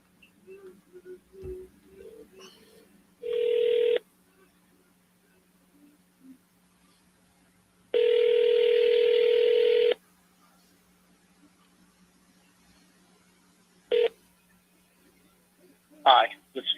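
An outgoing phone call rings back in two long, even tone bursts with short clicks and blips between them, heard over a quiet line with faint low hum, ending in a brief electronic chirp.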